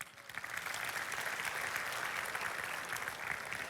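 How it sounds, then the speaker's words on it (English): Audience at a TEDxNTU 2017 event breaking into sustained applause, a dense wash of clapping that swells quickly and holds steady, moderately distant and alone. "A big round of applause"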